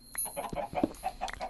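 Chickens in Minecraft's Sevtech Ages modpack clucking in short, repeated bursts, close and fairly clear, with no one talking over them.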